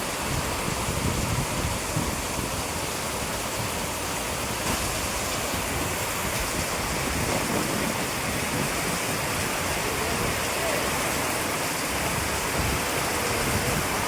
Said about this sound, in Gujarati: ધોધમાર વરસાદ હો।